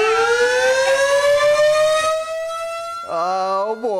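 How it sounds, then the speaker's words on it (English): A civil defense siren in Dawsonville, Georgia wails loud and close, its pitch sliding slowly upward before dropping and restarting with a sharp jump near the end. "For those unfamiliar with the screeching, squealing noise you are currently hearing, this is the tradition that they do in Dawsonville, Georgia."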